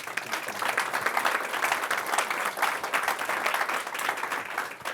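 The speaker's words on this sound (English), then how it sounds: "Round of applause for our panel." A roomful of conference attendees applauds a leaders' panel at an energy efficiency summit, with brisk, dense clapping that holds steady for several seconds.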